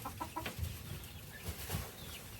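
Backyard hens and chickens in a flock cluck softly and scratch about, with scattered faint clucks and a brief flutter of wings against a low, steady outdoor background.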